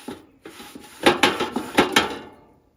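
Grill grates being wiped down and oiled before skewers go on, a series of rhythmic scraping, rubbing strokes with metallic clatter, close and fairly loud, fading out at the end.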